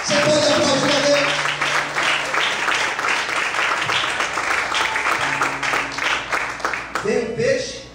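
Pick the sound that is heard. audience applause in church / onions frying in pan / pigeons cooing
audience applause in church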